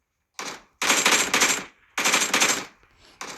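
In PUBG Mobile, loud close automatic gunfire rips out in several rapid bursts separated by short silences, the last burst cut off at the end.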